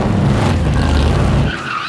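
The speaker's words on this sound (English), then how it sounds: "Look at them driving a 700 horsepower Corvette" A 700 horsepower Corvette skids hard at a racing event, tires squealing under a loud, continuous engine roar that drops slightly near the end.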